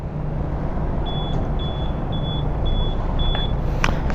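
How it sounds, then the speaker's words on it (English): A Zontes 310X motorcycle gives five short, evenly spaced electronic beeps after its ignition is turned off, over a steady low rumble of engine and outdoor noise. "it does do the beeping sound for 4 times after I turn off the ignition"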